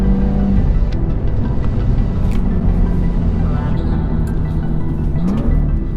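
A BMW M2 engine with a 6-speed manual revs toward its 7,000 RPM redline, a loud, steady close-up drone whose pitch climbs near the end, with a voice talking over it.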